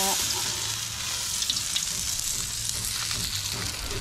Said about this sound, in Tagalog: tapos natin iprito yung isda